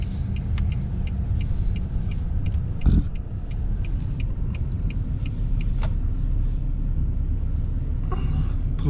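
A truck drives slowly down a lane across a large lawn, its engine a steady low rumble heard from inside the cab, with small rattles and clicks throughout.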